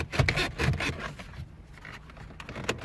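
A 2016 Ford Focus speedometer cluster being jiggled and pulled forward out of the dashboard, giving close, rough plastic rubbing and scraping with a few sharper knocks early on.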